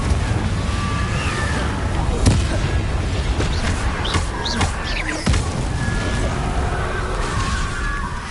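Confringo explosive spell blasts in a Hogwarts video game, several sharp booming bursts over a constant roaring rumble, with a voice speaking briefly.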